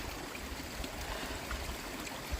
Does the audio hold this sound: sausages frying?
no